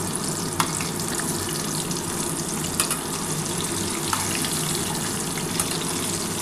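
Potatoes fry in hot oil while being cooked for a chicken dak bungalow curry, a steady, dense sizzle with occasional sharp crackles and pops that runs unbroken throughout.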